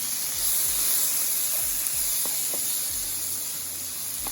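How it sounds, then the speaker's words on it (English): Peppers and onions sautéing in a pan of butter and vegetable oil, a steady close sizzle and hiss with a few faint utensil clicks. "in the pan right here, we have some butter and vegetable oil. We're gonna go in with our peppers and onions"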